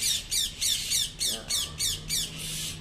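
Harsh bird squawks repeat in a steady series of about eight loud, raspy calls, close by, with no talking.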